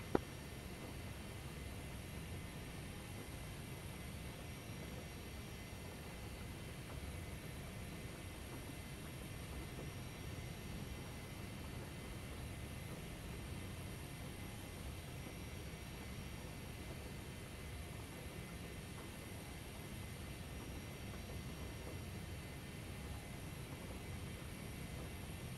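A steady, low aircraft engine drone while taxiing to the active runway, held at a constant level throughout with no voices, only the unbroken rumble and hum.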